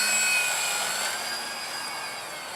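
A ParkZone Artizan radio-controlled model airplane's electric motor whines steadily with a high-pitched drone, gradually fading slightly as it flies farther away.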